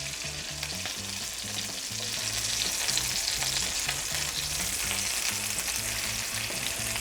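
Chicken pieces frying in browning butter in a pan give a steady, close sizzle and crackle that swells slightly after the first second and holds loud and even throughout, with no voices.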